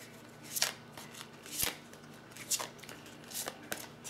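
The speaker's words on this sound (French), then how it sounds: "on va tirer encore une carte dans chaque tas" Tarot cards shuffled and drawn from piles: a handful of quick, crisp riffling and snapping card sounds spaced about a second apart, close and fairly quiet.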